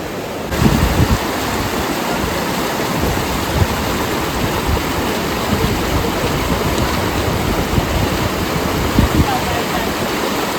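Rushing water of a stream along the trek to Kalu waterfall, a dense, steady roar that is loud and close and continuous throughout, with no talk over it.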